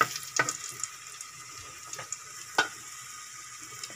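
Eggplant frying in a pan is stirred with a wooden spatula, giving a soft steady sizzle broken by a few sharp scraping knocks, close up with no talking.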